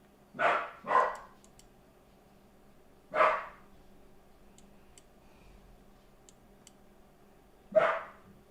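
A dog named Max barks four times, two quick barks close together, then one alone and a last one after a long gap. The barks are fairly close and clear over a quiet room hum, with faint ticking in the background.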